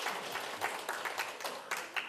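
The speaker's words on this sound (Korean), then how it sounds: "큰 박수 다시 한번 부탁드립니다." A panel discussion audience at a regional forum applauds faintly, with a short run of distant, evenly spaced claps heard at low volume.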